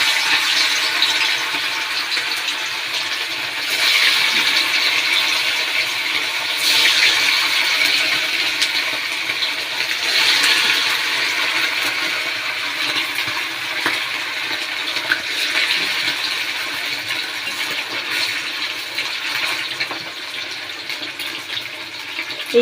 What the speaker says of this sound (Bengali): এবার আস্তে আস্তে করে এই মাংসগুলো এর মধ্যে দিয়ে দেবো।